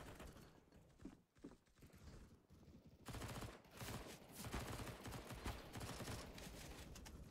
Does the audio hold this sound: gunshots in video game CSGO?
yes